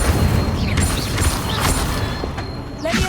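The Incendio fire spell cast in Hogwarts Legacy gives a muffled, roaring burst with soft whooshing sweeps, layered over a dense backdrop of game ambience and effects.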